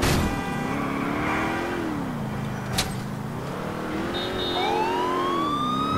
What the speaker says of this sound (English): Probably just have the siren on, so hopefully people yield for me.